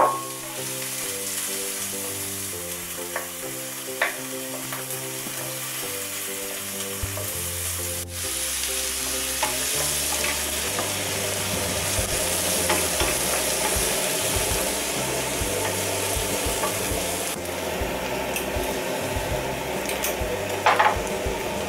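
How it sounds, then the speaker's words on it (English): Finely chopped onion sweats in hot olive oil in a pan for a game soup, giving a steady close sizzle with occasional soft stirring clinks. "we've got a finely chopped onion, and we've just heated the olive oil up. We're going to sweat the onion without catching it."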